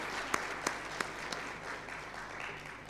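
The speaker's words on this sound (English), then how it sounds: "Give a big round of applause to the SBA." Sustained applause from an audience at a law conclave, dense steady clapping with a few louder sharp claps standing out near the start, continuing without speech throughout.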